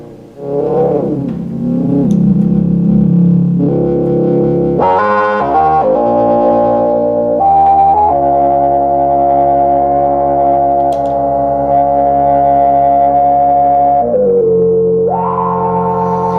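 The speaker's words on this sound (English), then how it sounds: "now you can hear it's just a clean sound." A clean, loud 1972 Minimoog synthesizer lead holds long sustained notes, sliding smoothly between pitches, with no one speaking.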